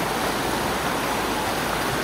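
A swift river rushes in a dense, continuous roar during a crossing on foot where the bridge is out, with loud, close churning water and no break.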